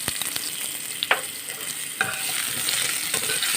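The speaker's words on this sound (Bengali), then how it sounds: "এবার এর মধ্যে আমি দিয়ে দেবো হলুদ" A spoon scrapes and stirs through fried mango pieces with turmeric powder in a sizzling pan, close and clear, with sharp stirring knocks over a steady fry.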